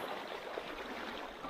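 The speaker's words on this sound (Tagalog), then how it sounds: "Malakas ang agos." Strong river current flowing past a rural picnic spot in the Philippine countryside, a steady broad rush of water heard close and continuous for a moment, rising slightly at the end.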